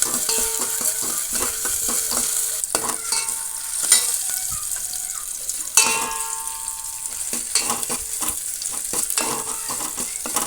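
Chopped ingredients for tomato gojju fry and get stirred in a pan, giving a steady close sizzle with repeated scraping stir strokes and no voices.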